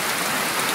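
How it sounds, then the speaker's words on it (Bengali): Heavy rain falling on a house, a dense, even wash of noise that holds steady through the whole short moment, with no voices over it. "অনেক বৃষ্টি"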